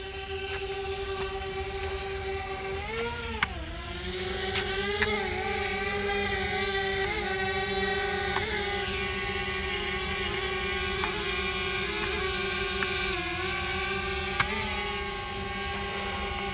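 A DJI Spark mini drone lifting off and hovering nearby, a steady high whining propeller buzz with shifting pitch as the rotors speed up and adjust, continuous and fairly loud.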